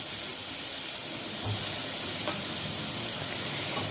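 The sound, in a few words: ridge gourd added to frying masala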